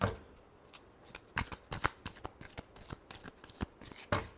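Tarot cards being shuffled by hand in a series of quick, crisp riffling bursts and soft slaps, close and fairly quiet, with no talking.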